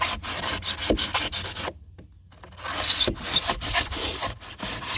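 Pour-in flotation foam being cut out of a boat hull, a steady close rasping and rubbing saw stroke repeated over and over, with a brief pause midway before the scraping strokes resume.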